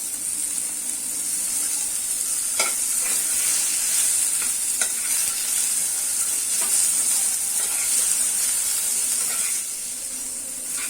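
Tomato, ginger, garlic and green chillies roasting in hot oil for a spicy chicken rassa, a steady loud sizzle with occasional stirring scrapes, no talk.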